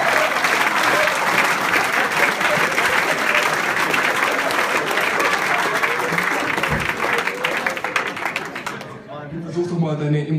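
Audience at a football club's Christmas party breaks into loud, sustained applause that fades near the end, where a voice begins speaking.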